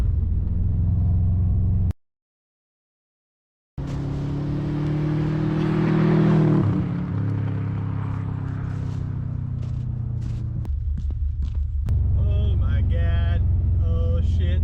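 A Subaru STI that sat unused for a year is driven hard on a rally stage, its engine loud and droning with rising revs, broken by a brief gap, then rough rumbling and gravel-like hiss under a few voices.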